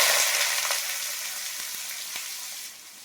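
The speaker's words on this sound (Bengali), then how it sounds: "পেঁয়াজটা ভালো করে ভেজে নেব।" Onion fries in mustard oil over a high gas flame with a bright, continuous sizzle that slowly fades, broken by a few faint stirring knocks.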